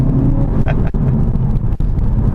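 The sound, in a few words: 2015 Audi TT S Line 2.0 TFSI engine accelerating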